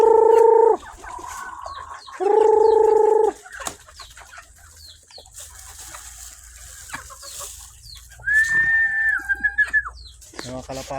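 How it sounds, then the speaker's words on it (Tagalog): Pet chickens waiting to be fed give loud, drawn-out crowing calls up close, several long cries with clucking and scattered small bird sounds between them and a steady farmyard background. "Gantay na yung mga alagang manok."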